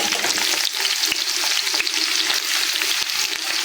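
Onions sizzling in a pan of hot oil with garlic and dried red chillies, a close, loud, continuous frying crackle punctuated by scattered stirring clicks.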